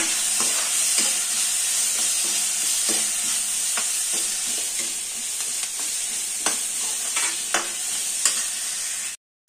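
Fennel seeds sizzling and crackling in a hot pan, with intermittent stirring scrapes, close and steady before cutting off abruptly.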